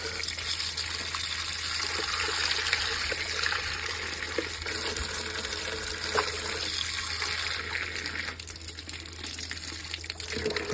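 Water gushes steadily from an outdoor tap in Kolhapur, a continuous hissing broadband flow that stays loud and even throughout, with milky, foaming water and no talking.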